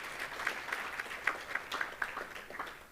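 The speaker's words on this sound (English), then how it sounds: "Let's give a round of applause to those celebrating 20 years of service of KCKCC." Applause at a community college employee recognition ceremony honoring staff for 20 years of service, a fairly faint, distant patter of clapping from a modest crowd with individual claps standing out.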